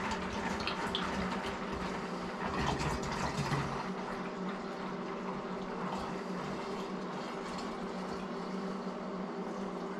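RMR 86 Pro mold remediation solution poured from a gallon jug into a sprayer, a steady, close liquid gush that runs for several seconds and then settles into a softer continuous trickle.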